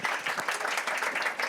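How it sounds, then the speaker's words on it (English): A crowd applauds steadily, dense clapping filling the room at moderate volume without pause. "Give them a round of applause."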